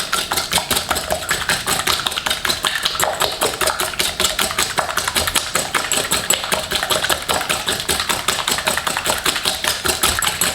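Eggs and sugar being whisked rapidly together in a bowl for a chocolate pineapple cake, a steady fast rhythmic beating and clicking that runs continuously and fairly loud with no pauses.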